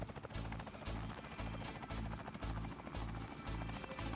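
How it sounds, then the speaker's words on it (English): A helicopter in the video game Ty the Tasmanian Tiger 2 gives a steady, loud rotor chop of even, rapid pulses that continues with no break. "There you go. You're in a helicopter"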